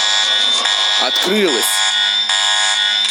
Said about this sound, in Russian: тупая сирена